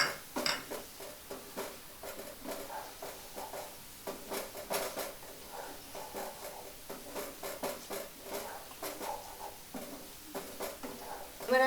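Pieces of paneer tumble into a pan of cooked-down spinach masala for palak paneer, giving a run of soft clinks and scraping knocks against the metal, moderately close and steady.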